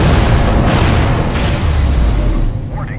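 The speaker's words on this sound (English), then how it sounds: "Detonate the charges now." Detonated charges explode in Borderlands: The Pre-Sequel, a loud, sustained rumbling blast with heavy low-end boom that fills the whole stretch and tapers slightly at the end.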